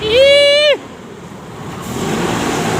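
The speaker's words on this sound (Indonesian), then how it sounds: "ALS 354 dan perdana akan melanjutkan perjalanannya ke Medan" The ALS 354 intercity bus bound for Medan sounds a loud, sustained horn blast, then a broad rumble of engine and road noise swells as it moves off.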